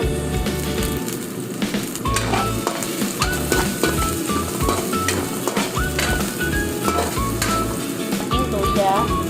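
Garlic and onion sautéing in a pan for a Filipino mixed vegetable dish with shrimp and crab: loud, close, continuous sizzling with frequent spatula scrapes and stirring clatter, no talking.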